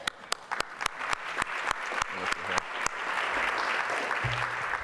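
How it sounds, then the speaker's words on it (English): A gala luncheon audience applauds. The clapping starts as sparse, distinct claps and swells into fuller, sustained applause, with a brief low voice near the end. "Let's give her a round of applause"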